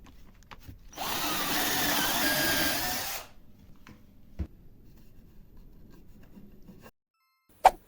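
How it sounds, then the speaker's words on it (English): A power drill bores into chipboard in a single loud two-second burst, then cuts off, leaving faint handling noises and a couple of sharp knocks. "Never drill chipboard like this."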